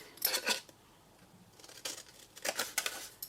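Scissors trim small bits of card in a few quick snips, clustered near the start and again toward the end, close and quiet with soft paper rustles between and no voices.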